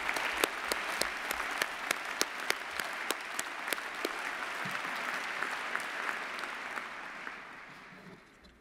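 Applause for the engineering graduating class at a university postgraduate ceremony, a steady crowd of clapping hands sustained for several seconds before slowly thinning out.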